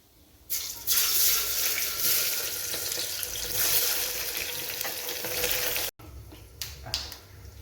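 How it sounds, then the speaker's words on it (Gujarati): Chopped onions hit a hot pan for sweet corn pulao, setting off a loud, steady frying sizzle that holds for several seconds, cuts out briefly and then returns more softly with a few stirring knocks. "તો હવે ડુંગળી નાખી દઈએ આપણે."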